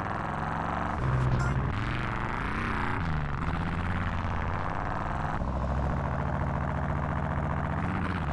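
The engine of a monster truck with four-wheel steering in GTA San Andreas rumbles at a continuous idle under a layer of in-game music and effects, with no speech.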